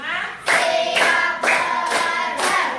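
In a classroom, a group claps in unison with a regular rhythm, with five or so loud, close bursts evenly spaced and faint vocal sound between them.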